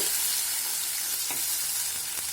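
Onion paste with raisin and nut paste sizzles loudly in a pan, a continuous close hiss broken by a couple of soft stirring scrapes.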